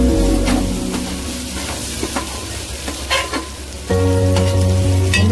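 Ground coriander and cumin powder fry in a pan with chili powder, a steady close sizzle broken by scraping stir strokes, with the frying growing louder near the end.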